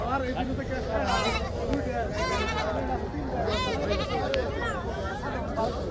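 Goats bleat again and again at a rural goat market on the bank of the Brahmaputra river, several animals calling over a steady hubbub of market voices.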